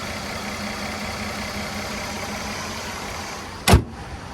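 A 2012 Mercedes-Benz E350's 3.5-liter naturally aspirated V6 idles with the hood open, a steady low hum that holds even throughout, then a sharp thump near the end, most likely the hood being shut.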